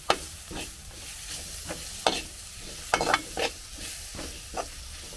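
Tomatoes fry with masala in a pan for goat brain fry, a soft sizzle broken by repeated scraping strokes of a spoon stirring at an uneven rhythm, close by.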